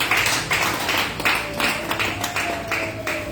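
A church congregation claps along in a steady rhythm, roughly two beats a second, a crowd of hands applauding the Lord in a reverberant hall.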